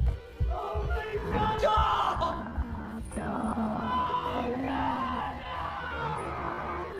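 A man yelling and bellowing, strained and sustained over a few seconds, amid a noisy, crowded background.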